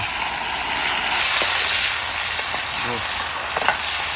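Chicken sizzling loudly in hot oil with fried onions, cooked outdoors among green paddy fields with toddy: a steady, close hiss of frying with faint stirring clinks.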